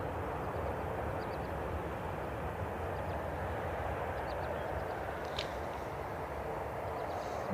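An Aer Lingus Airbus A321neo jet airliner lines up on a runway at Cleveland Hopkins airport, giving off a steady, broad engine roar that holds at an even level.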